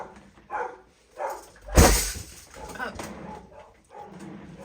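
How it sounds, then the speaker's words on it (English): Two dogs bark indoors in a home, sharp barks rising over a busy background, with one louder burst near the middle and a person talking over the commotion. "And there goes Eddie barking. Bruce is joining in."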